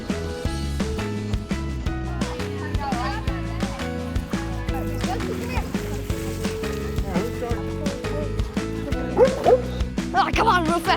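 Dogs bark and yip at an outdoor swimming pool during a dog swim day, with water sloshing and people talking over a busy, steady background throughout.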